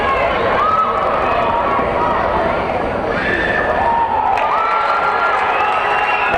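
Spectators fill a gym during a high school girls' basketball final, a loud, continuous roar of voices with shouts and cheers rising and falling throughout, while a commentator talks over the top.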